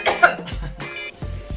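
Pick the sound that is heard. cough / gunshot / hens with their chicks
cough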